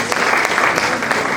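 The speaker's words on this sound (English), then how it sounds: "Please, a round of applause for the chief doctor." An audience at a national moot court competition breaks into a short, dense burst of applause for a chief doctor, steady and close with no voices over it.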